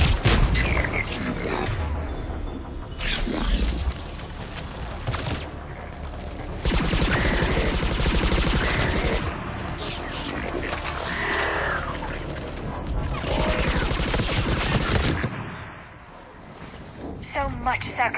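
Gunfire in the video game Mass Effect 3, bursts of rapid shots and booms scattered through battle noise and mechanical clatter, with a voice talking over the action at times.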